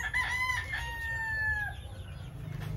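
A rooster at a breeding farm crows once, a clear drawn-out call rising and then trailing off over a low, steady background rumble, alone and moderately near.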